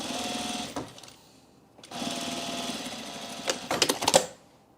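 A domestic sewing machine stitches fabric in two steady bursts of fast, even whirring, close and fairly loud, with a short pause between them and a few sharper mechanical clicks near the end.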